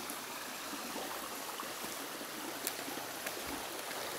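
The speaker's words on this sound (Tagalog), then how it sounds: "Ito guys ang sinasabi nila sapa." A clear, cold stream flows near Busay Falls on Camotes Island, Cebu. It makes a steady, even rush of water that runs on without a break, with no voices.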